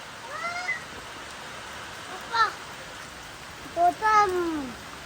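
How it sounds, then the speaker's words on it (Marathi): Heavy monsoon rain in a Konkan village among coconut palms keeps up a steady hiss, while a cat meows several times in rising and falling calls. "आणि हे असा मस्त असा इथं पाऊस चालू आहे"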